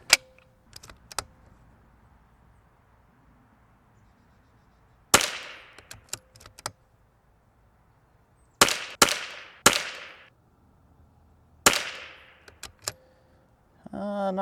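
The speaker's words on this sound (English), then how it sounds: "Got the old Sellier and Bellow, and let's shoot some groups with this thing." A .22LR rifle fires Sellier & Bellot rounds outdoors, sharp isolated cracks spaced a few seconds apart, some in quick pairs, each with a brief ringing tail over a quiet background.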